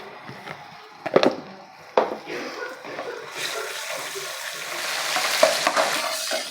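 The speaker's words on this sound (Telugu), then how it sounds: "ఆనియన్స్ చక్కగా కలుపుకొని బ్రౌనిష్ వచ్చేదాకా వేగాలి" Onions frying and being stirred in a pan sizzle steadily, broken by a few sharp scraping stirs early on, before the hiss grows louder and denser toward the end.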